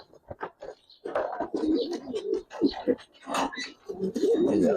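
Giribaz pigeons coo in a loft, with repeated bursts of throaty, rolling calls of varying length, fairly close and moderately loud.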